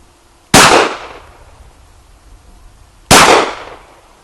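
A Gen 4 Glock 19 pistol fires two loud, sharp gunshots at a target about 12 yards away, spaced roughly two and a half seconds apart, each followed by a short fading echo in otherwise quiet surroundings.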